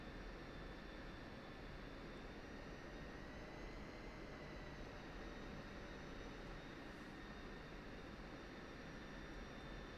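A jet aircraft in the DCS flight simulator game, set on a Syria map, roars steadily through a broad, unbroken engine drone with a faint high whine held throughout as it readies for takeoff.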